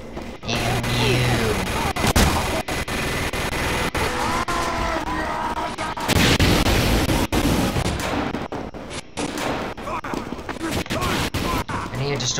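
A sentry turret firing in Team Fortress 2: dense, loud, continuous gunfire with rapid bursts and sharp cracks, layered with heavy game noise throughout.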